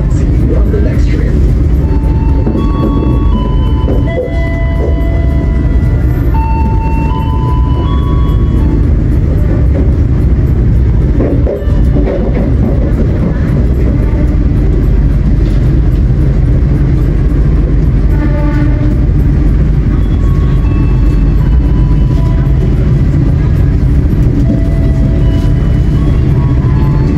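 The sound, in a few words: Jaka Tingkir train arriving at Lempuyangan station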